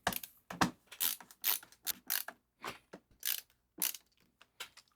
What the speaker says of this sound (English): And let's add our screws, starting with the long 25 mils.